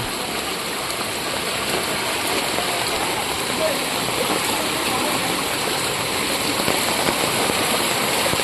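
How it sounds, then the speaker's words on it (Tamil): Floodwater rushes down a stream in Vagaikulam village, Tirunelveli district, after heavy rain. A loud, continuous roar of flowing water fills the whole stretch without pause. "அந்த ஓடையிலேருந்து எவ்வளோ தண்ணி இருக்குது பார்த்தீங்களா"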